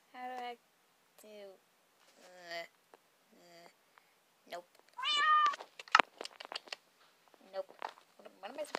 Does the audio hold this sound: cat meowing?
yes